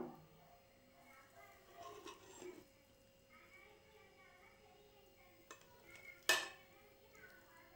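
Light stirring and scraping of mutton biryani on a plate, faint soft rustles with a few sharp clinks of utensil on the plate, sparse and quiet with some low background voices.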